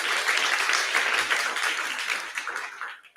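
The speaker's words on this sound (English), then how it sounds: "a round of applause for Brighton AI co-founders" An audience at a Silicon Brighton meetup applauds the Brighton AI co-founders: dense, sustained crowd clapping that thins and fades toward the end.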